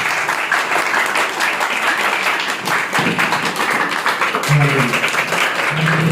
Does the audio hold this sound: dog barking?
no